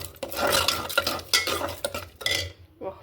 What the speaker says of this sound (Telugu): ఇదంతా బాగా కలుపుకున్నాం.